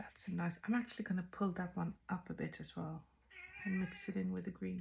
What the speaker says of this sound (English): I have my cat here, sorry if you hear her.